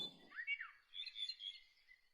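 Cartoon forest birds chirp in a short, bright burst: a few rising tweets, then a sustained, warbling trill at moderate loudness, with a brief low rumble at the start.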